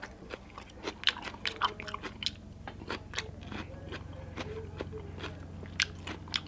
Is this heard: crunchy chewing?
yes